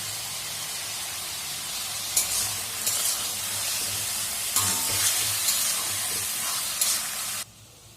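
Spices hit a hot pan for a prawn curry, bursting into a loud, hissing sizzle that holds steadily with a few stirring scrapes, then cuts off abruptly near the end.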